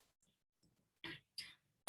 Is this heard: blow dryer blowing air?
no